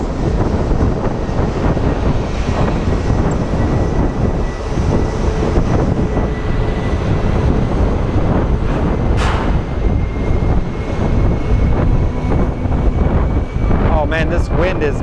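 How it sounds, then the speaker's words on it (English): Airliner jet engines spooling up for takeoff at Sky Harbor International Airport, a loud broad roar with heavy wind buffeting the microphone, steady for the whole stretch. "I can hear the engines powering up."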